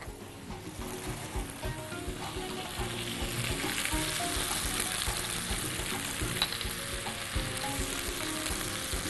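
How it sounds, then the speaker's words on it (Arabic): Onions sautéing in a pan with seven spices and a sprinkle of sugar, a continuous close sizzle with busy stirring and scraping that grows slightly louder midway, no voices. "واحنا شغالين وبنشوح البصل، والبصل هنصفره نخليه ذهبي مش غامق ومش ابيض."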